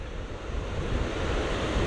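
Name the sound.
rough ocean waves at St Lucia Estuary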